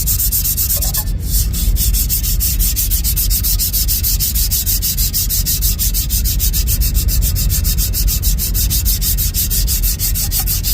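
Hand sanding with 60-grit sandpaper on a metal surface gives a steady, loud, close rasping scrape, with quick regular strokes that repeat without a break for about ten seconds and no talking.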